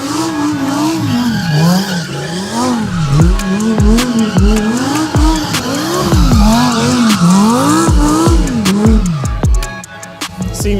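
An AMG race car spinning round at the Goodwood Festival of Speed, engine revs rising and falling in repeated swoops while the tyres squeal and skid loudly and near, with sharp bursts of tyre noise throughout.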